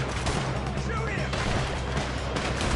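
Gunfire crackles through a Red Dead Redemption 2 shootout, a dense, continuous barrage of shots mixed with shouting voices.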